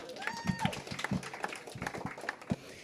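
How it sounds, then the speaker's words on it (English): Audience applause at a green technology talk, scattered hand claps of a small crowd heard fairly faint and close together for a few seconds. "Let's give him a hand of applause."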